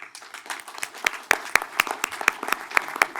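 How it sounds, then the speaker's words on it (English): Conference audience applause at a technology event, a short burst of scattered, fairly close individual claps with uneven rhythm. "with a round of applause"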